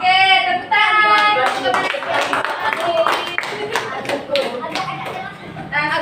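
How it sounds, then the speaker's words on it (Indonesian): Schoolchildren clap together in a fifth-grade classroom at an elementary school, a dense, loud patter of many small hands lasting several seconds with a brief dip partway through, while children's voices chatter over it. "Oke, tepuk tangan"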